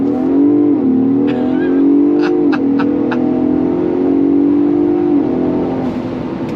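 A Ford Bronco Raptor with its exhaust in the loudest Baja setting accelerates hard, engine note climbing then dropping at each smooth shift of the 10-speed automatic, loud and close with no talking.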